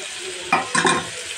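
A large chopped onion with green chilies hits hot oil in a pan, a short burst of sizzling and stirring, close and fairly loud, in two quick surges over a low background hiss.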